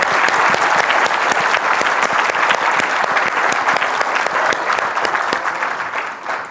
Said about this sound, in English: now let go and clap a little bit.